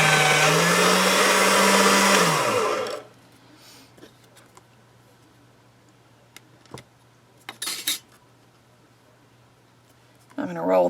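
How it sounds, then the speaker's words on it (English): A pasta machine rolls a sheet of polymer clay with a loud whirring grind for about three seconds, then stops, leaving quiet hum, a few clicks and light handling noises. "Let me run this back through my pasta machine."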